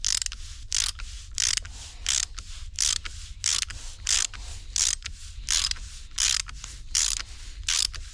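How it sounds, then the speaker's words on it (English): A socket on a ratchet screws a reusable fitting onto a hydraulic hose, producing steady, close, evenly spaced bursts of sharp clicking with each turn, no voices. "best to use a socket and a ratchet"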